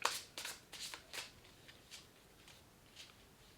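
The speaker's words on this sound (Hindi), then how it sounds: "last shuffle" Tarot cards are shuffled by hand nearby, producing a run of quick crisp riffling bursts that thin out into softer, sparser flicks, with no voices over them.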